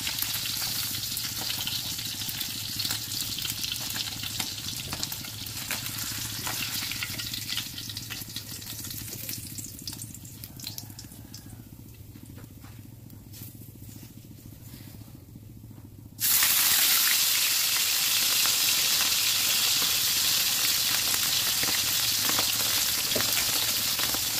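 Dried fish (daing) sizzles steadily in a pan, a close crackling fry that dips quieter midway and then surges louder and brighter after a sudden jump, continuing without talk.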